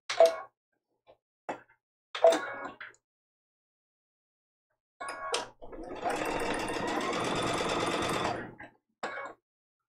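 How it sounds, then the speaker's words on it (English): A sewing machine stitches a quilt-as-you-go vintage-inspired placemat: several short, separate bursts early on, then one steady, close run of stitching lasting about two and a half seconds, followed by a brief final burst. "I just sew off the edge and then rotate everything and start off the edge"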